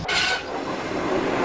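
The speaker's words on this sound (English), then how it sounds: "Gordon pulled into Kelsthorpe Road as usual with his local train" A steam locomotive hauling a local passenger train rolls into a station, a loud, close rush of rail and wheel noise that sweeps up briefly and then holds steady.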